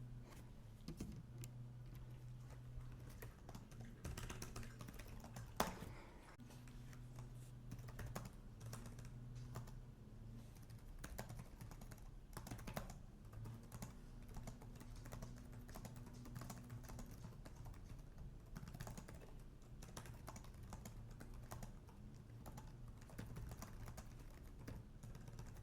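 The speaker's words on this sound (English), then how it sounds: "So we'll come in here and we'll just do a little quick type" Quick, steady keystrokes clatter on an HP OMEN gaming laptop keyboard, soft and close with a continuous typing rhythm and a faint hum beneath.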